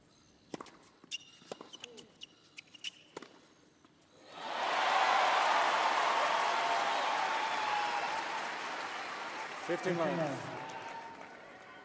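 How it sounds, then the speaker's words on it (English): At a change of ends during the 2014 Australian Open final between Wawrinka and Nadal, the tennis crowd claps. A few scattered knocks come first, then broad, steady applause swells and holds to the end. "The crowd clapping for Rafa, clapping for Wawrinka."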